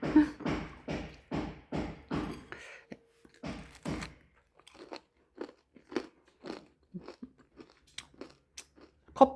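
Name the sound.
chewing a crunchy cookie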